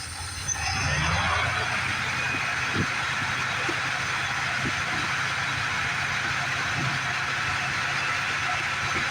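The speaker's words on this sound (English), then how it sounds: "Yeah, the carburetor's hung on it. I can smell it. It's running rough." A 1978 Dodge D-250 pickup engine with a hung carburetor runs rough, a steady loud rumble with uneven low pulses that fills the whole stretch after a brief quieter start, with no talking over it.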